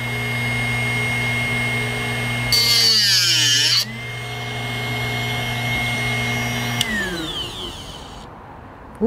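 A Drill Doctor 750X sharpener grinds a masonry drill bit, its steady motor whine rising into a harsh, shifting grinding burst for about a second before settling back to a hum and winding down.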